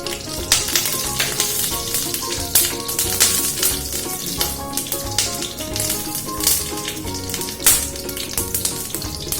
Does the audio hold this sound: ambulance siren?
no